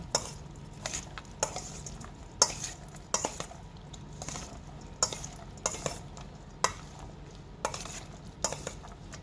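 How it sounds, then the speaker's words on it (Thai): A spatula scrapes and clinks against a pan while food stir-fries for a homestyle Thai dish, giving regular stirring strokes about once a second over a faint sizzle, quiet and close, with no voice. "แล้วก็คนทุกอย่างให้มันเข้ากัน"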